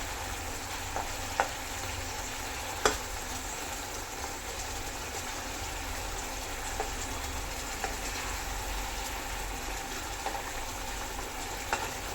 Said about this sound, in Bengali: চলো ফিরে এর মধ্যে এবার অ্যাড করবো মাছগুলো।